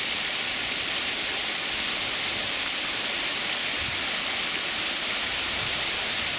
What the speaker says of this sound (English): This is a waterfall in Cove Spring